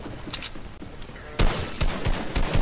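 Sniper gunfire in a video game, sharp loud shots bursting in a rapid cluster after a quieter stretch with scattered smaller cracks, with a player's voice intermittently present.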